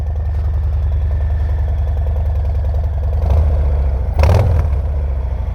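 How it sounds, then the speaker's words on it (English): A Harley-Davidson Softail Heritage 120th Anniversary Edition with Cobra exhausts idles with a steady, deep, loud low rumble and gives two brief revs toward the end, with no one talking. "And it sounds good too. Listen to those Cobras."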